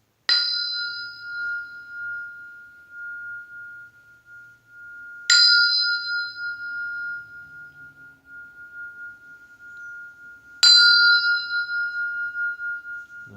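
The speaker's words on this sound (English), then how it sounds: "So with that, I'll sound the bell." A meditation bell is struck three times at even intervals, each strike ringing out clearly and fading slowly in a quiet room with no talking.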